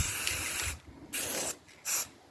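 A spray paint can coating parts of a wood processor: a sustained hiss followed by two shorter bursts, close and steady, with no voices.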